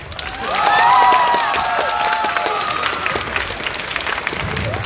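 Audience at a cosplay contest during the Gliwice Fantasy Days applauding loudly, a dense burst of clapping with some cheering and whoops that swells quickly and then holds steady.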